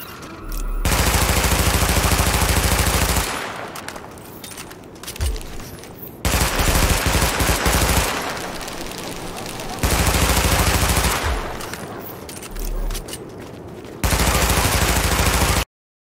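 Bursts of automatic gunfire in Tom Clancy's The Division, long dense fusillades of several seconds each separated by quieter gaps, loud and close, repeating three times before cutting to silence.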